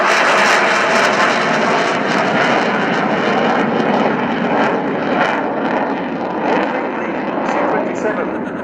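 A Soviet production fighter jet, about 15 m wingspan and fly-by-wire, flies at the RIAT airshow at Fairford. A loud, steady broadband engine roar fills the whole stretch while an announcer talks over it.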